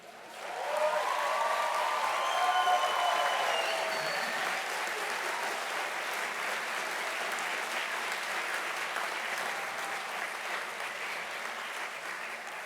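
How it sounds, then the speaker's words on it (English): Audience clapping at a design school graduation ceremony, a large crowd's sustained applause with some cheering near the start, rising quickly then holding steady and fairly distant for over ten seconds. "We can let the clapping begin"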